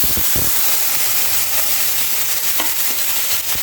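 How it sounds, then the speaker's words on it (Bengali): Blended beetroot hits hot ghee with bay leaves and cardamom, giving a loud, steady sizzle and hiss that fills the whole stretch, with a few sharp stirring clanks near the start and end. "তারপর দিয়ে দিচ্ছি আমার ব্লেন্ড করা বিটরুট।"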